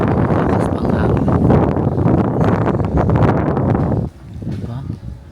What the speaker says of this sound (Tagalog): Lakas pang hangin guys.